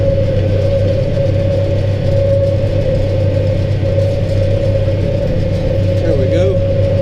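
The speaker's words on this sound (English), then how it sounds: "I gotta keep this baler hopping." A tractor pulling a hay baler through a field gives a steady, loud engine drone with a constant mid-pitched hum and rumble, unbroken for the whole stretch.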